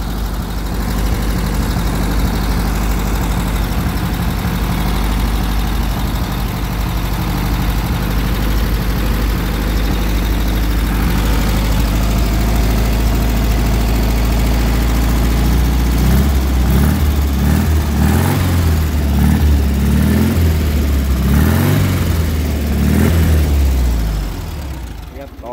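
A 1965 Volkswagen Beetle air-cooled engine idling steadily with a low, even drone throughout, the pitch and roughness shifting slightly in the latter half, with someone talking over it in places.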